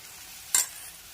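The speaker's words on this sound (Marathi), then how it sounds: "थोडेफार 2 ते 3च एका वेळेला तळायला टाकून घ्यायचे." Vadas dropped into hot oil in a kadhai, two or three at a time, give one brief, bright sizzling burst midway through that quickly settles back into a quiet background hiss.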